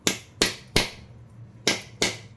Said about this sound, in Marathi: हा बत्ता घेतलेला आहे। आता मी सर्व बाजूने असं मारून